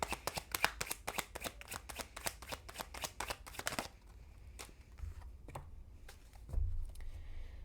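A tarot card deck is shuffled up close in quick riffling bursts for about four seconds, followed by a few scattered card taps and soft handling noises in a quiet room.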